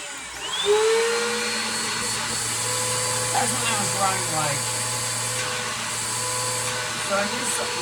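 A Bissell Powerforce Helix upright vacuum cleaner runs steadily and close by with a constant motor whine and airflow roar, briefly rising in pitch as it spins up, while a person talks over it.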